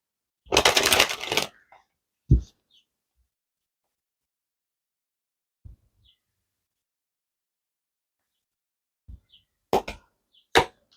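Tarot cards are shuffled in one quick riffle near the start, followed by a few sparse taps and card handling sounds in otherwise quiet surroundings.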